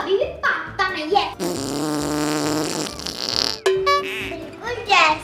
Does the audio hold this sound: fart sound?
yes